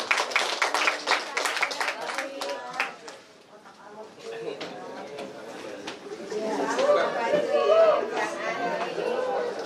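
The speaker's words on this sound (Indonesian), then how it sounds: "Oke, beri tepuk tangan sekali lagi." Scattered audience clapping at a theatre class opening ceremony, brisk sharp claps early that thin out, then a murmur of crowd chatter and voices taking over.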